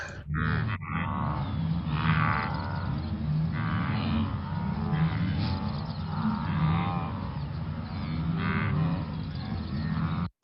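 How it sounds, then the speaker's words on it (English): A mass herd of wildebeest in the Serengeti calls continuously, a dense overlapping chorus of grunting, mooing bleats that stays loud and steady throughout with no talking. "That's the sound of mass wildebeest."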